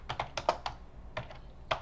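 Keys clatter on a computer keyboard in short, irregular bursts of crisp clicks, close and fairly quiet, with brief pauses between groups of keystrokes.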